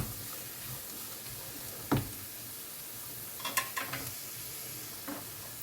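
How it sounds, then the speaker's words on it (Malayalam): Peas stirred and sautéed in a pan for a paneer samosa filling, a quiet sizzle with a sharp scrape near two seconds and a cluster of spoon-against-pan clinks around three and a half seconds. "കൂടെ കുറച്ച് പീസ്, ഒരു 1/4 കപ്പ് പീസ് എല്ലാം കൂടെ ചേർത്ത് നമുക്ക് നല്ലപോലെ വഴറ്റിയെടുക്കാം."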